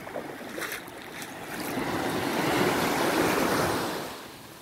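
Sea waves breaking on a beach in Zanzibar, a steady broadband wash of surf that swells louder toward the middle and eases off, with some wind noise and no voices.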